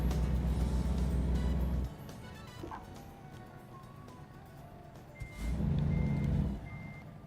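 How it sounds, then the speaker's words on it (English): Truck reversing beeps in the American Truck Simulator game, a steady series of regular electronic beeps sounding over a low engine rumble that drops away midway and then returns. "Backing up, backing up"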